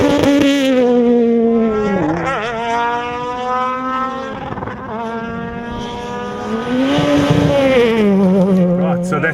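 Volkswagen rally car racing through a stage at a rally near Port Elizabeth, engine loud and close with rising and falling revs and gear changes throughout, no talk.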